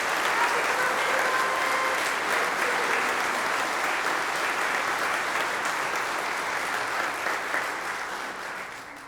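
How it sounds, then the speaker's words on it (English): An audience at a spring concert in a parish church applauds the pianist, a steady dense round of clapping that holds loud and even for about nine seconds before easing off at the end. "let's give Robin a great big round of applause"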